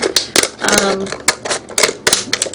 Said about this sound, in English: kind of make a cut using regular scissors, and then it's a real easy cut around